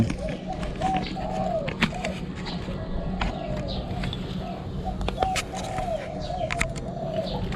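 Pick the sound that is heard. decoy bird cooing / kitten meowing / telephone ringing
decoy bird cooing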